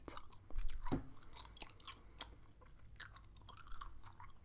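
Close, quiet gum chewing with soft wet smacks and clicks in an irregular rhythm, heard alone with no talking.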